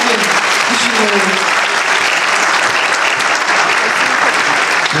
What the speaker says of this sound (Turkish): bu kadar alkış yeterli olmaz gibi düşünüyorum